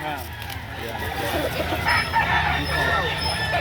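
Chickens and roosters at a poultry market in Lipa, Batangas, cluck and crow amid a busy hum, with people talking close by over the birds.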